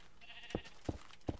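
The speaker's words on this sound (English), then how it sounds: "Hey, a sheep." A sheep in the Minecraft video game bleats three times in short, evenly spaced calls, close and fairly clear over a quiet background.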